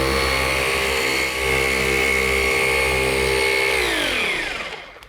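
A variable speed polisher run near its top settings, buffing swirl marks out of car paint, gives a steady, loud, close whine with a dense tonal hum. It holds evenly, then winds down and fades at the end, with no voices.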